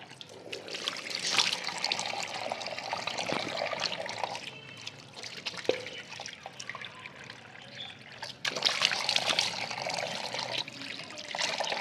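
Tap water runs steadily into a washroom sink during wudu ablution, a continuous trickle and pour with splashes as hands gather water, heard alone at moderate level.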